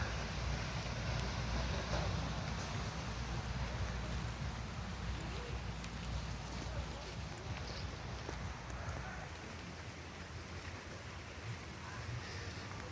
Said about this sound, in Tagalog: okay maulan pa kaya naman